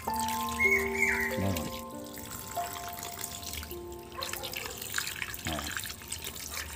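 Freshly made chhana, a cottage cheese curdled with vinegar, is washed by hand under running water in a kitchen, a soft continuous trickle and splashing beneath a woman's brief speech and background clatter.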